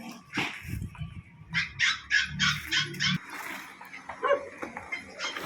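Several puppies from a litter of eleven bark and yip in quick overlapping bursts, close and fairly loud, with soft whimpering between them.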